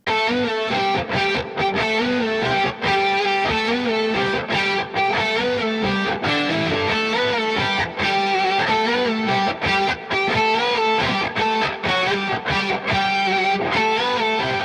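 A heavily distorted electric guitar plays chugging, rhythmic riffs, loud and continuous, with a spacious reverberant tail from a Strymon Big Sky MX convolution reverb using a Taj Mahal impulse response.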